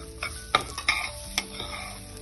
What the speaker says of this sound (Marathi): दोन्ही छान आता कोरडं होईपर्यंत आपण परतून घेणार आहोत। एक सारखं सतत भाजत राहायचं आहे।